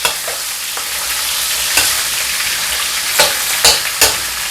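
Food frying slowly in hot oil until crispy, a loud continuous sizzle close by, broken by a few sharper scrapes and clinks from stirring.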